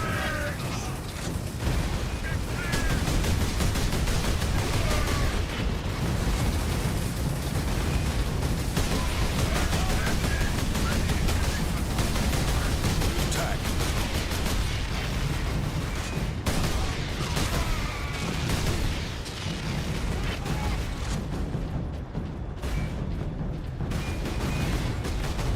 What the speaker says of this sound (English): oh, the Kraken bolt rounds are quite efficient.